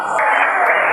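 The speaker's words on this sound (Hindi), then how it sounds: "भरपूर तालियां।" Listeners at an Urdu mushaira poetry gathering break into applause, a brief, loud burst of crowd clapping lasting about a second.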